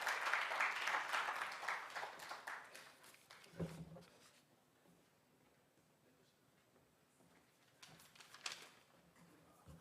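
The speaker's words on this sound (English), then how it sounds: "Members, another round of applause" Audience applause at a public event marking International Zero Tolerance for FGM in Moroto District, clapping loudly at first, then fading out by about four seconds, with a brief renewed burst near the end.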